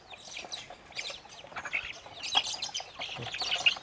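Pure native country chickens, black in colour but not Kadaknath, cluck and chirp in scattered short calls at moderate distance, with no talk over them.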